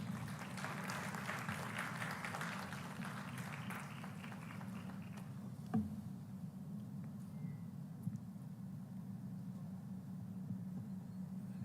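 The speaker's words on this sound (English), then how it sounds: "deserves another big round of applause" Faint crowd applause at a national media conclave inaugural ceremony, fading over the first half beneath a constant low electrical hum that carries on alone afterward.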